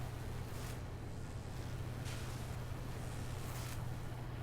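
A steady low hum from a pacemaker device in a survival video game, droning continuously and fairly loud under soft wind-like noise, with no talking.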